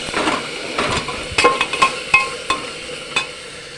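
Vegetables for sago khichdi being stirred and lightly fried in a pan, with a steady soft sizzle under a series of sharp utensil scrapes and taps against the pan, close by.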